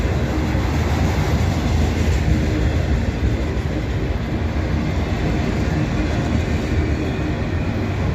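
Norfolk Southern freight cars with flat wheels roll steadily past up close, a continuous loud rumble of wheels on rail with faint clickety-clack running unbroken and with no talk.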